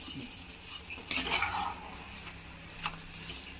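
Spoon scraping and stirring carrot halwa in a pan after sugar is added, soft metallic clinks and rubbing scrapes with a louder burst of stirring near the middle, close and fairly quiet with no talking.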